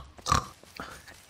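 A pig in a Zelda game on Link's island gives a short snorting oink followed by a softer second grunt, brief and close.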